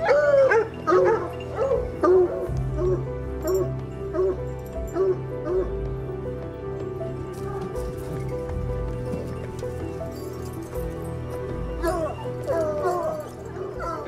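A pack of hunting dogs in kennels bark, yip and whimper constantly, a dense overlapping chorus of many dogs at varying distances with no pause.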